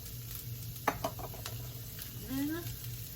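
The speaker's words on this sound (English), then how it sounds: "I'm gonna add my cauliflower first" Cauliflower drops into a hot pan with garlic, giving a few clattering knocks and a soft sizzle and stir, close and fairly quiet, with a voice speaking briefly.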